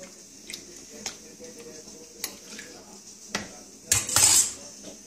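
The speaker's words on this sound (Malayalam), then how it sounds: "എന്നിട്ട് നന്നായി ഒന്ന് ഇളക്കുക" Light metallic clinks and taps of a spoon against a vessel as something is stirred into water, scattered through the clip, with a brief louder scraping clatter near the end.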